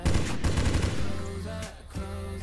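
Rapid automatic gunfire in a zombie shooter mobile game, a dense burst of repeated shots under a droning game soundtrack, loud at first and then easing into background music.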